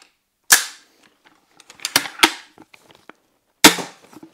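An arrow from a 55 lb bow slams into a target with a sharp, loud crack, followed by smaller clicks and two more hard impacts, heard alone with no talk.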